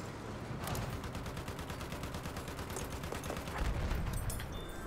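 Quiet, sustained rattle of tank machine gun fire in Battlefield 1, a continuous rapid stream of shots with low rumbling underneath, steady throughout.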